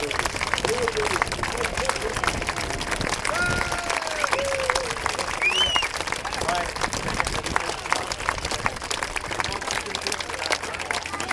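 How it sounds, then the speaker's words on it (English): Outdoor crowd applause at a living history World War II battle re-enactment, scattered clapping running steadily throughout at moderate level, with people talking over it. "let's give them a huge round of applause"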